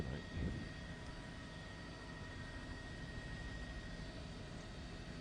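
A news helicopter flying near a Long Island Rail Road crash site with a struck truck, giving a steady, continuous rotor and engine drone at moderate distance with no talk.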